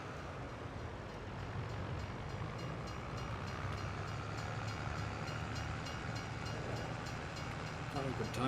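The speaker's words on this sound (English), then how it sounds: "Train's just going past" A train passes in a multiplayer video game, its steady rumbling roll and faint rhythmic clatter holding at moderate distance throughout, with low talk mixed in beneath.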